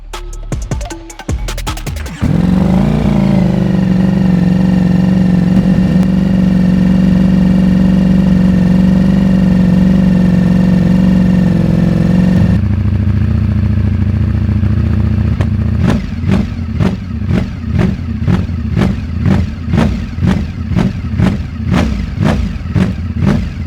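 A Ducati four-cylinder V4 motorcycle engine starts, idles with a deep steady rumble, then revs repeatedly in sharp rhythmic bursts, loud and close.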